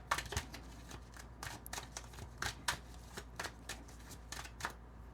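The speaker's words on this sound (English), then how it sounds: "Let's go ahead and get a couple more cards out here." Cards drawn and handled from a deck during a pick-a-card tarot-style reading, giving a run of soft, close papery flicks and slaps at an irregular rhythm, with no talk over them.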